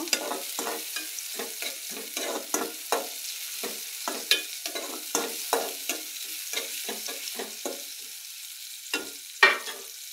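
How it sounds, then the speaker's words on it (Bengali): Chopped garlic and onion stirred and fried in a pan for a rohu fish curry with yardlong beans and potato: a constant soft sizzle punctuated by rhythmic spatula scrapes, close up, with no talking. "দিয়ে এখন আমি নেড়ে দেবো, ভাজা ভাজা করে নেব"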